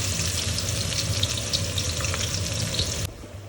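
Onions frying in oil for beef haleem give a steady, dense sizzle with faint crackles, loud and continuous until it drops to a quieter hiss near the end; no one speaks.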